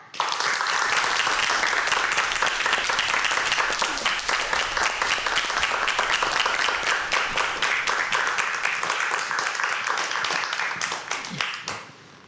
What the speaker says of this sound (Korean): 큰 박수로 맞이해 보도록 하겠습니다.